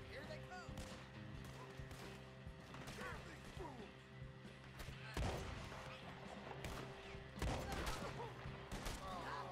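Gunfire in the video game Red Dead Redemption II on PS4: dense bursts of shots and sharp cracks, with a few louder blasts near the middle and end, over a steady game soundscape while someone talks.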